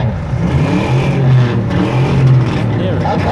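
A Mustang's engine revs at a Wimborne classic car show, loud and close, with two rising surges of throaty rumble over a steady idle and crowd background, while people talk nearby.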